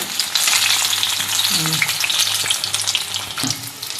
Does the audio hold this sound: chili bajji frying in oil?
yes